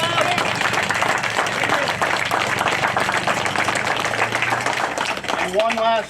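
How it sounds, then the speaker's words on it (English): A crowd claps for the organizers of a youth turkey hunting celebration weekend at a Vermont general store, a dense burst of applause with voices and chatter mixed in throughout. "a round of applause for these guys for putting this all together"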